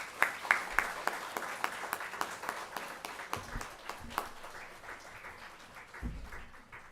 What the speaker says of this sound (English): Please give them a big round of applause as they take the stage.